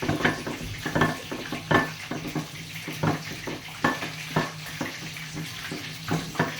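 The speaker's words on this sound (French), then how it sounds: "Vous mélangez bien le tout." A rice pilaf mixture is stirred in a pan, with rhythmic scraping strokes of a spoon every half second or so over a soft sizzle, near and moderately loud.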